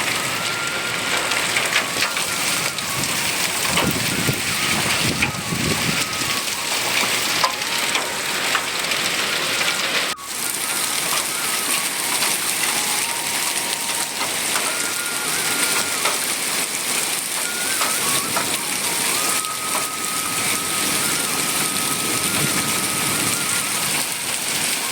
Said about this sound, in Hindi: बाहर बारिश आ रही थोड़ी बहुत